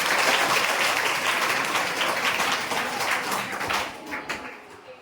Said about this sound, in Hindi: आप लोग ताली बजाइए बहुत जोर से